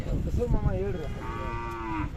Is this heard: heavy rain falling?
no